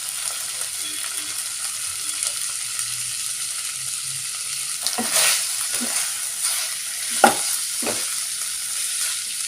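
Quail fry sizzling steadily in a pan as ground roasted masala is stirred through, with a few sharp scraping stir strokes standing out over the constant close frying hiss.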